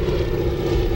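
A propeller airplane towing a banner drones past in a steady, moderately loud engine hum, brief and unbroken, with no voices.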